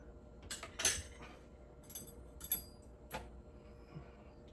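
Metal cutlery and utensils clinking as they are lifted from a Maytag dishwasher, a scatter of light irregular clinks and chinks, close and fairly soft, with quiet pauses between.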